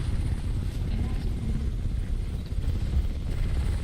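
A helicopter in Crysis Remastered gives a steady, low, throbbing rotor rumble, fairly loud and continuous, with voices talking over it.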